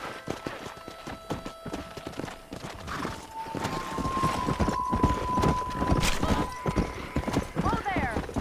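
A horse trots and gallops in the Red Dead Redemption Wild West game, with rhythmic clip-clop hoofbeats throughout that grow louder and busier, and a brief whinny near the end as voices talk over the riding.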